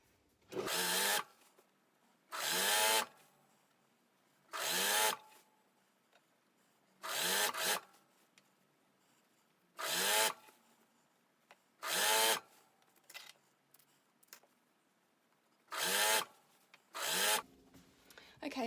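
A sewing machine stitches a double-turned hem around a fabric jumpsuit top in short, regular bursts, about one every two and a half seconds, with brief pauses in between.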